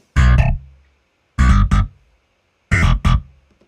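A GroveBass virtual bass with its overdrive setting repeats a pair of quick, gritty notes three times, each pair followed by a short pause, loud and up front with no voices.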